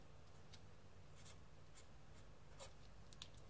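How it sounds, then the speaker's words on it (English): Someone writes notes by hand with faint, intermittent scratches of a pen on paper in a quiet room, with no voices. "let me write that down quickly"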